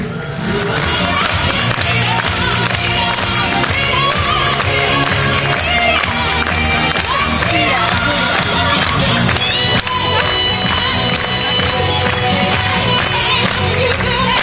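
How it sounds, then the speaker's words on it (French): A large audience at the Miss Vendée gala, a regional beauty pageant election, claps and cheers loudly and continuously, a dense wall of applause that holds steady throughout with some voices mixed in. "Les applaudissements très très fort."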